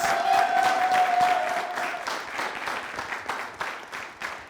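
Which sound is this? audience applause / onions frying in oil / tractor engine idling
audience applause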